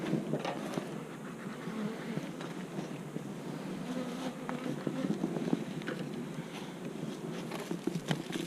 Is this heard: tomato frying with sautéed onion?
no